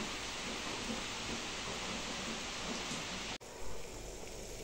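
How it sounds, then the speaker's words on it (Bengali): Black gram (biuli dal) dry-roasts in a dry pan, giving a faint, steady rustling hiss like light rain, broken by one sharp click near the end. "প্রথমে বিউলির ডালটা আমি শুকনো খোলায় ভেজে নিচ্ছি"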